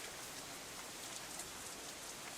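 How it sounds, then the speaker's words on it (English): Heavy rain pours steadily in the visual novel Katawa Shoujo, a dense, even hiss of drops with gusts of wind, loud and close and heard alone without a break. "The rest of my voice is completely drowned out by even a heavier burst of rain."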